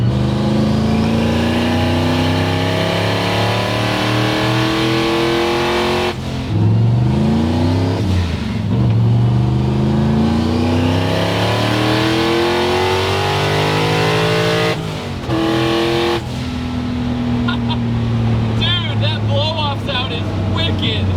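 A Coyote-swapped Shelby GT500 with a big turbo pulls hard in third gear, its engine note loud and rising over long stretches with brief dips at shifts, while a driver talks over it.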